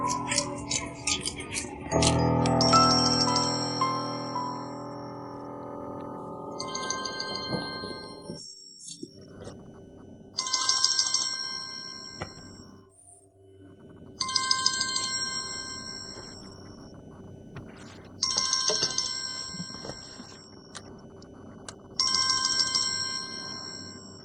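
A phone ringtone plays in a romantic drama scene, sounding as a repeating melodic ring in bursts of about two seconds, each followed by a pause, fairly loud and close, with no talk over it.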